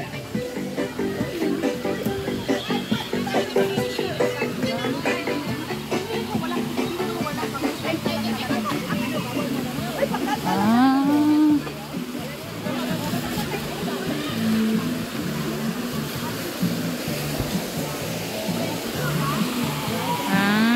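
Water rushes continuously at a small waterfall in LOHAS Park, a steady broadband roar with people talking over it throughout.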